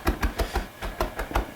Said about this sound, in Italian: poi tritiamo finemente anche il prezzemolo